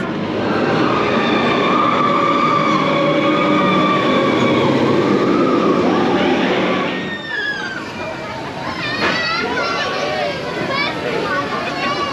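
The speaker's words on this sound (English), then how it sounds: "So we're at the Fantasyland train station now" Walt Disney World Railroad train at the Fantasyland station, a loud, close mechanical rumble with a steady drone that drops off partway, followed by squealing rail noise, while people talk nearby.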